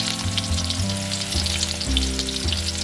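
Pork pieces deep-frying in hot oil for sweet and sour pork, a dense continuous sizzle and bubbling that stays loud and close throughout, with no voices.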